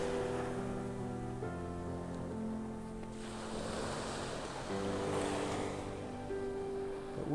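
Waves wash ashore at a foggy Vanderbilt Beach in North Naples, Florida, early in the morning. The surf rolls in as a steady broadband wash that swells twice, with faint wind noise and no voices.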